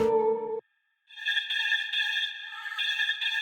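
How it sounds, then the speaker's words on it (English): A bright, airy synthesized vocal chop with a washy chorus and long reverb tail, sustained tones layered in harmony, following a brief low note and a short gap. "Looks like it's just a vocal chop."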